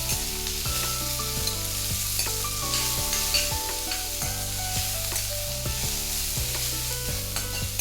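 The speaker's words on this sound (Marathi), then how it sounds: "कोथिंबीर मिरची लसूण आणि शेंगदाणे तेलामध्ये व्यवस्थित फ्राय करून घ्यायचे" Coriander, green chili, garlic and peanuts frying in oil for a spicy cluster bean thecha, sizzling loudly and steadily throughout as they are stirred, with background music and no speech.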